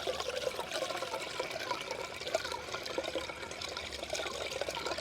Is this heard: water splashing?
yes